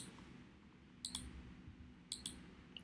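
Four sharp mouse clicks in two quick pairs, roughly a second apart, over a low, steady background hum while someone opens a wallet section in a trading app.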